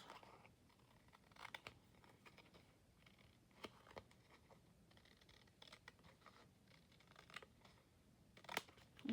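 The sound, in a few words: trimming paper with scissors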